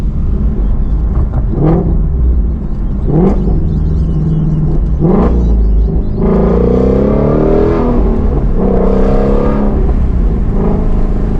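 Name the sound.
Shelby GT350R engine accelerating while driving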